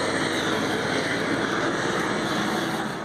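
A police helicopter flying during a search for criminals gives a steady, loud, unbroken roar of rotor and engine noise throughout, with no voices.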